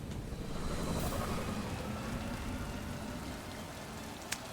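Rain falls in the video game Mass Effect 2 on Tuchanka, a soft, steady hiss of drops that stays fairly faint and continuous throughout.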